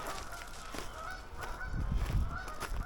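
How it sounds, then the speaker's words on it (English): Geese honk repeatedly along a park waterfront, their calls rising in short bursts over a background of low outdoor rumble and wind. "We've got a few geese, birds, swans down here."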